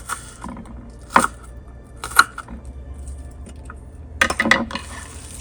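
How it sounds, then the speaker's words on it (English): A knife cuts through an onion in a few separate strokes, each a short crisp crunch close by, followed at the end by a quicker cluster of cuts, with quiet gaps between. "Very emotional when I cut the onion."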